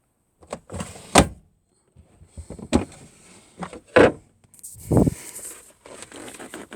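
Camper drawers slide open and shut in a series of separate knocks and thumps, close and fairly loud, with short quiet gaps and a brief rattle between them.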